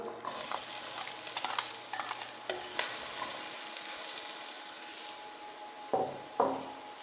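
Chopped onion hits a hot Royal Prestige pan in the base left from browning ossobuco, setting off a bright continuous sizzle with scraping stirs and utensil taps, the frying hiss fading gradually before two louder clatters near the end.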